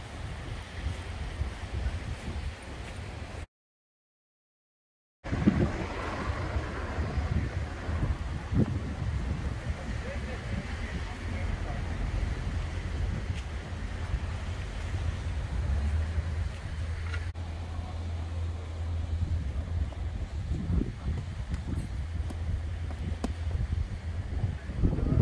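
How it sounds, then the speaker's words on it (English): Steady wind roaring across a microphone outdoors at the beach in Palm Beach, with low rumbling gusts throughout and a brief dropout near the start. "So windy today."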